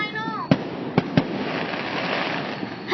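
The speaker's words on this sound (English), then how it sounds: "As you can see, there's so many fireworks." Fireworks burst outdoors in a few sharp, distant-sounding bangs with crackling in between, set against a steady background hiss.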